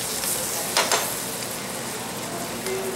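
Brown butter spooned over king klip or Alaskan cod fish in a tilted pan, giving a continuous close sizzle and fry with a couple of brief spoon clinks early on, no talking.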